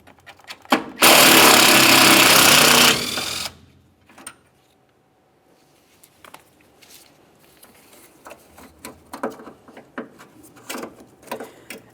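A power tool whirs loudly for about two seconds while removing 8mm bolts from a bracket on a 2010-2013 Ford Transit Connect, followed by scattered metallic clinks and rattles of parts being handled.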